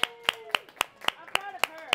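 Clapping at a paint night, about eight sharp, evenly spaced hand claps that sound like a single person or a small few rather than a crowd, close and fairly quiet, with faint voices underneath.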